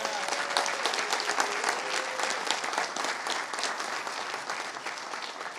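Sustained audience applause fills a cybersecurity conference hall in Detroit, a dense, even wash of many hands clapping at moderate loudness that tapers slightly toward the end.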